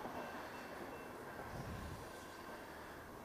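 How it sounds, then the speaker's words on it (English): A train rumbles past close by, a steady broad roar of wheels on rails with no voices. "Took you to see a choo-choo train."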